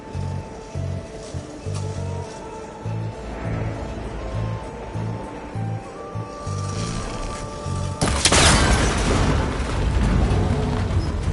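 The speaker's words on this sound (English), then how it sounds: "That connector's holding the cables together. It should break if I shoot it." A shot breaks a cable connector in Horizon Forbidden West on PS5: a sudden loud crack and crumbling burst cut through a steady rhythmic pulsing, then noisy debris rumbles on.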